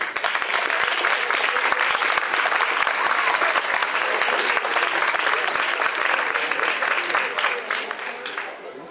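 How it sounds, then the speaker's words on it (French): An audience at a school evening ceremony breaks into sustained, dense applause that fills the whole stretch, then thins slightly toward the end. "Je crois qu'on peut les remercier en les applaudissant bien fort."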